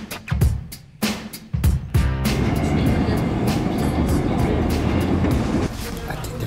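A subway train in Korea rumbles and clatters loudly, with sharp bursts and knocks giving way to a steady roar of the car in motion.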